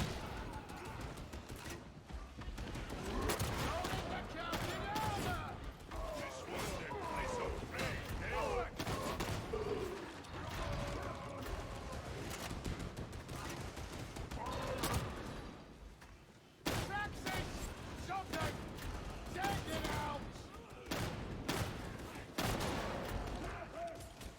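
Shotgun blasts in Warhammer 40,000: Darktide ring out over a dense, constant wash of combat noise, with repeated heavy reports and thuds across the whole stretch and a brief drop near the middle.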